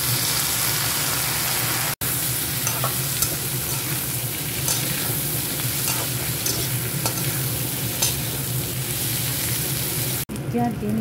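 Chili paneer sizzles steadily in a pan after vinegar is added, a dense continuous frying hiss with scattered crackles and stirring scrapes throughout. There are two brief cuts in the sound.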